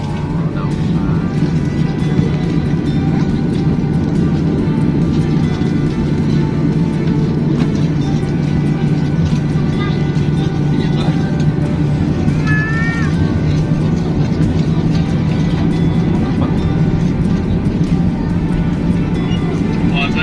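Inside an airliner cabin departing Denpasar at dusk, a steady loud engine drone with a constant low hum fills the whole stretch, unchanging and close.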